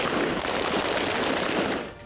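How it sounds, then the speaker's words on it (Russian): Gunshots fired at a target during Chechen shooting practice, a continuous loud burst of rapid cracking reports lasting about two seconds with no pause. "По команде цель, 1 номер. Работает до щелчка. 5 выстрелов."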